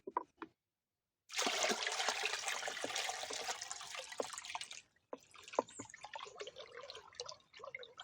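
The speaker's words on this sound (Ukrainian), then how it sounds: "Тепер цей препарат при перемішуванні додаємо в основний і додаємо до 10 літрів води" Water runs from a container into a bucket of grapevine spray mixture, a splashing, trickling pour that starts after a brief quiet, holds for several seconds, then continues in softer dribbles and drips.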